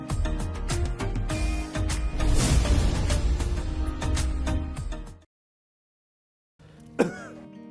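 After a stretch of busy background sound and a brief silence, a person coughs once, harsh and close.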